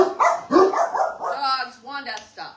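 Several pet dogs bark in quick, loud bursts close by, with yips and whimpering mixed in, while people talk over the commotion.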